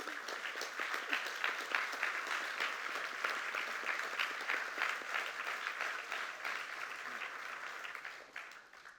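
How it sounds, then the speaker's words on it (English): Steady, moderately distant applause from an audience honoring teachers, counselors and school staff at a graduation-style event, continuous throughout and tapering at the end. "another round of applause to all the teachers, counselors, school staff of our partner schools in the audience"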